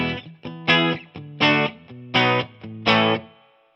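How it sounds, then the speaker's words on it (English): A 1994 Korean-made Squier Telecaster electric guitar played through an amp, strummed in a rhythmic pattern of chords with a reverb tail ringing out after the last one. "So that's just the guitar in the amp with a bit of reverb."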